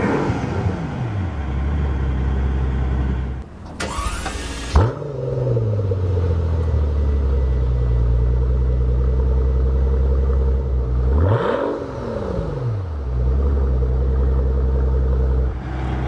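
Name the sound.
Mercedes-Benz S65 AMG V12 biturbo engine exhaust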